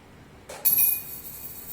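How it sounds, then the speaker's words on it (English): A coin drops from a flicked card into a glass tumbler, giving one sharp, bright clink with a short ringing tail that fades quickly in a quiet room. "The coin falls into the glass tumbler."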